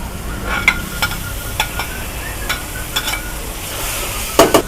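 Meat fries in a pan while being stirred, a constant low sizzle with a regular series of sharp spatula scrapes and taps, close up, ending in a louder clatter.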